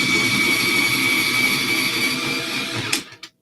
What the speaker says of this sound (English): Using an electric pencil sharpener here.